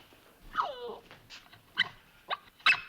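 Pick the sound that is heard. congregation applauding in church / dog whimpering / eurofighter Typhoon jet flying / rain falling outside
dog whimpering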